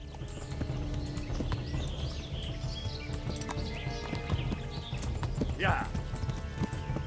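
A horse's hooves clop steadily under a rider in Kingdom Come Deliverance, mixed with game ambience and a brief high whinny-like cry, while someone talks over the gameplay.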